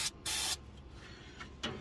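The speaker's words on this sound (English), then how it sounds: "We'll squirt some ether in there." Short bursts of ether sprayed into the carburetor of a 1967 Ford Galaxie, two strong hissing blasts near the start and a fainter one near the end, close by with quiet between.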